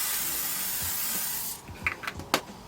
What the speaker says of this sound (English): I'm using the L'Oreal Infallible 3-second setting spray.